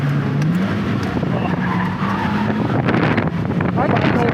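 A 2009 Honda Fit brakes hard on a race track, heard from inside the cabin as loud engine and road roar with a falling engine tone and wind rush, while people talk over it.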